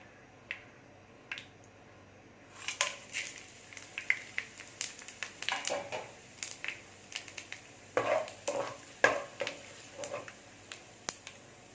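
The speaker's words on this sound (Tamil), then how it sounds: "பட்டை கிராம்புலாம் பொரிஞ்சு வந்துருச்சு" Cinnamon, cloves, fennel seeds and bay leaf frying in hot oil, a faint scatter of sharp pops and crackles with irregular clusters of sizzle and utensil clicks, no voices.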